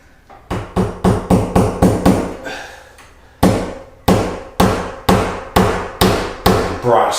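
Brass screws being tapped into a hardwood door with a hammer: a rapid run of sharp, loud, close blows, a brief pause, then slower evenly spaced strikes.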